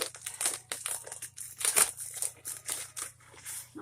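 Plastic packaging of an Ipsy beauty subscription bag being torn open and handled, close-up crinkling and rustling in irregular bursts without any talk.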